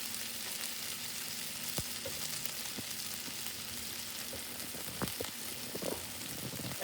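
About a tablespoon of butter frying in a pan sizzles with a steady, close hiss and crackle, punctuated by a few sharp pops and light utensil taps, with no voices.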